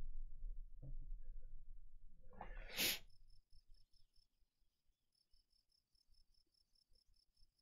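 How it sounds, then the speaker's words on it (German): Video game crickets chirp faintly and steadily in a fast, regular high-pitched pattern, following a short burst of louder noise at the start. "Zirp, zirp, ich höre sie schon zirpen."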